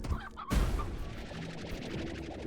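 A rooster in the Slime Rancher video game squawks and clucks in a burst of fowl calls, following a sudden loud impact, amid busy game sounds.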